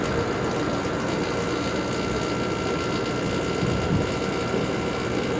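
A garage air conditioner starting up for the first time rattles loudly and continuously, a dense mechanical clatter over a steady running hum, close and constant for the whole stretch.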